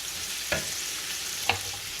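Bacon and onion frying in a pan for chicken marsala, a steady soft sizzle throughout broken by two brief scraping stir sounds, close and moderate in level.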